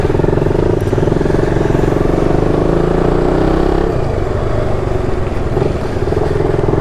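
Royal Enfield Interceptor 650 motorcycle's 650cc engine running close and loud, a steady throbbing drone with a slight dip in pitch partway through and no talk.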